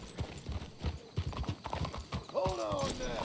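Horses' hooves clip-clop steadily on the ground in Red Dead Redemption 2, and a horse whinnies near the end.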